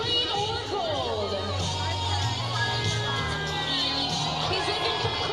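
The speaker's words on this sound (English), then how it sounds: "He's looking for crowd encouragement." A crowd cheers and whoops in encouragement at an Oakland Ballers versus Modesto Roadsters baseball game, with loud, steady shouting and chatter sustained throughout and voices mixed into the din.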